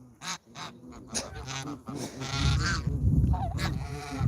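Several loud, nasal Canada goose honks ring out close by in irregular bursts, growing into a dense, overlapping chorus of calls toward the end.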